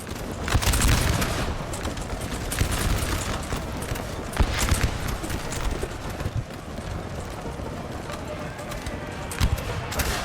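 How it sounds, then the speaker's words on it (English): Musket volley fire and cavalry in a 4v4 Napoleon Total War battle: dense crackling bursts of gunfire with sharp peaks, mixed with hoofbeats and battlefield rumble, continuing under a commentator's voice. "These guys get this beautiful flanking volley."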